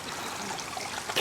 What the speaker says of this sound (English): there's like a pond in there, look, with like a hose with some water coming in.